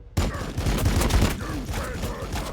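Burst of gunfire fusillade in the Warhammer Battlesector video game, loud rapid overlapping shots with rumbling impacts, starting abruptly and sustained throughout.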